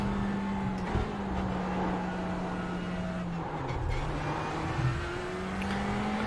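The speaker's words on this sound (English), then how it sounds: "I think the next pit stop I might turn down the engine sounds a little bit" A race car engine in the iRacing sim during the Bathurst 12 Hours, droning steadily at high revs with a sustained whirring tone and slight pitch shifts, loud and continuous with no talk.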